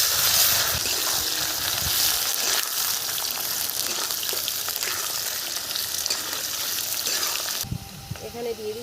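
Dried red chillies and cumin crackle in hot oil as a tempering for a potato dish, making a loud, dense sizzle and hiss close up that thins out abruptly near the end.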